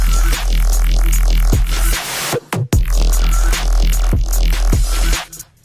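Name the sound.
wobble sound in an electronic music drop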